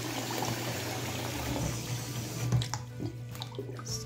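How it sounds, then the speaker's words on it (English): An acrylic sweater soaking in water is squeezed to push out air bubbles, giving a steady watery wash with soft sloshing and squelching toward the end, close by and with no speech. "squeeze out the air bubbles so it can get all the water can get in the fibers nice and soaked"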